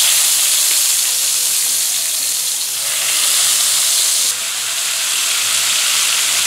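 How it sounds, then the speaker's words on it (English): Chicken pieces seared skin side down in a hot pan, a loud, dense, continuous hiss and sizzle that holds steady throughout with slight shifts in intensity, no voices. "we're going to lay it skin down, the skin side down, and we'll want to sear each side."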